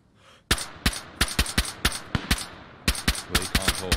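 Gunshots ring out in DayZ, a rapid irregular series of loud, sharp close-range reports, some in quick pairs, over about three and a half seconds with no talk.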